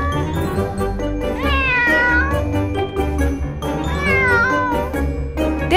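A kitten toy gives repeated high, drawn-out meows in two main cries over a continuous background bed, loud and close, as a sound effect in a Paw Patrol toy rescue story.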